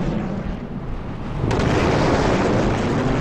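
A sonic boom effect from a 3D speed comparison animation of fast man-made objects hits as a loud, broad rumbling burst midway through, swelling from a lower roar and sustaining to the end.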